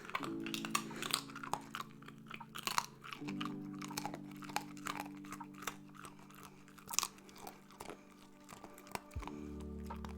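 A puppy crunches and chews a hard treat up close, with sharp irregular crackling bites over a quiet steady hum and no talking.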